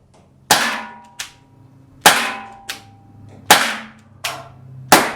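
An Umarex T4E TR50 .50 caliber paintball revolver fires four loud, sharp, close shots in a quick, steady rhythm outdoors on a test field, each followed by a fainter metallic echo or clack, with no talking.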